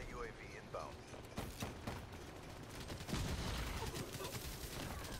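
Gunfire in the video game Black Ops 3 rattles in quick repeated cracks and bursts, dense and fairly near, with a player's voice talking over parts of it.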